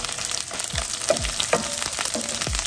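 Asparagus spears sizzle in a frying pan, a loud steady hiss punctuated by several sharp sliding scrapes as they are moved around and spread out.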